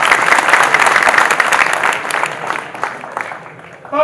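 Audience applause at a live Hindi comedy poetry recital held in a district jail, a loud, dense burst of clapping from a crowd that gradually tapers off toward the end.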